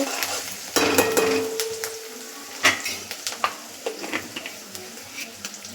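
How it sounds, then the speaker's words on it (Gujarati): Ajwain being stirred into a cooking pot, scraping and clinking of a spoon against metal with a soft sizzle underneath, close and irregular. "અજમો એડ કરીને પણ આપણે હલાવી લેશું"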